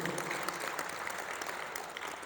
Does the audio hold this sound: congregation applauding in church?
yes